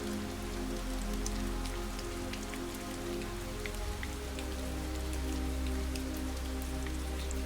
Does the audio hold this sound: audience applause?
no